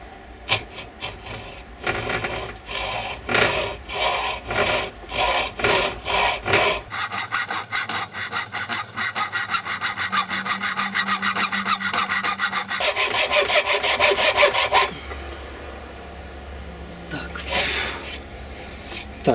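Hand saw cutting a kerf into wood for wedges in a hammer handle, steady back-and-forth rasping strokes, close up, quickening into a dense continuous run before easing off.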